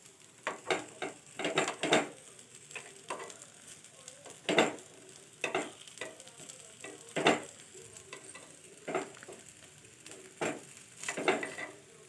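Appe frying in an appe pan, with soft sizzling and repeated clinks and scrapes of a utensil turning them at an irregular pace, fairly quiet and close, with no one talking.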